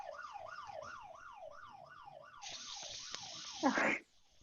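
An electronic alarm driven through a messy conductive slime circuit wails in a steady rising-and-falling siren pattern. A harsher, louder burst swells over it near the end before it cuts off abruptly.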